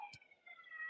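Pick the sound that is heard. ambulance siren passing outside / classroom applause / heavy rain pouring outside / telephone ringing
ambulance siren passing outside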